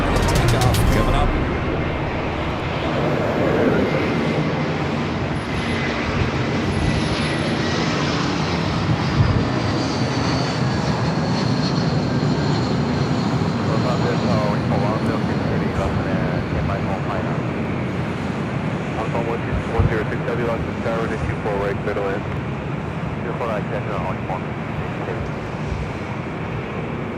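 A Lufthansa Airbus A380 pushing back from the gate at LAX bound for Munich, a steady loud jet roar and wind-like rush filling the whole stretch, with a voice talking over it.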